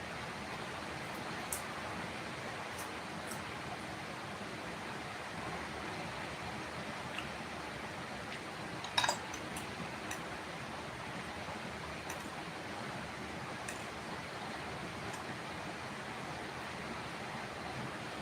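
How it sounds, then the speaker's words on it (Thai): Heavy rain hisses in a steady, unbroken wash, muffled as if heard from inside, with one faint knock partway through. "ขนาดในบ้านยังได้ยินเสียงซ่าๆเลยนะ"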